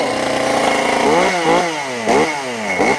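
A flooded Makita chainsaw engine runs loud and close, sputtering and then revving up and down several times in uneven bursts.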